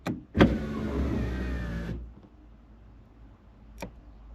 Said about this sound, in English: so if I stop talking, you may actually hear the window go down.